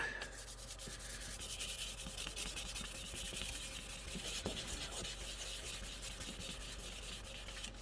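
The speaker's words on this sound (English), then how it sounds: "let's try and wet sand some of this" Wet sandpaper rubs steadily back and forth over a primed scale model part, a continuous close scratchy rasp with soft repeated strokes and no talking.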